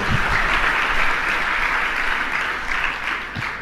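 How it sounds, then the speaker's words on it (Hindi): A gathered audience at a Jain religious discourse claps loudly in a thick, continuous burst of applause that eases slightly toward the end. "जोर से ताली बजा दो अपनी हार पे"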